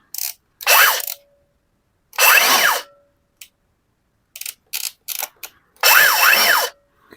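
A DeWalt cordless power tool is test-run in several short bursts, each a loud close whirring ratchet-like rattle that rises and falls in speed, separated by silences and small clicks.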